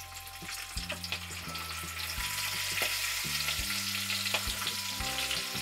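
Cumin, mustard seeds, bay leaves and curry leaves sizzle in hot oil for a Maharashtrian brinjal-potato bhaji, a steady quiet crackle broken by several rhythmic clanks of a utensil against the pan, no speech.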